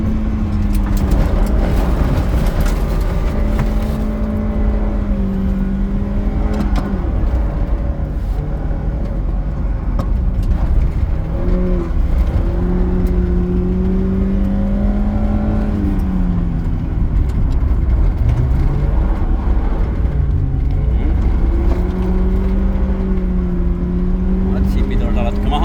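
A race car engine at an EKV cup round drones loudly and continuously, its pitch climbing and dropping through gear changes, while a coach speaks over it from inside the car.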